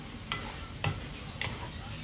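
Fishcake (eomok) being stirred and mixed in a frying pan over a soft, steady sizzle, with three light scraping clicks of the utensil at even intervals.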